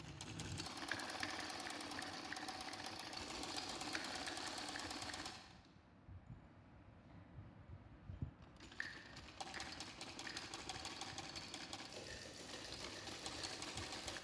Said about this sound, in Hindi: अब हम दूसरी साइड से भी सिलाई लगा रहे हैं।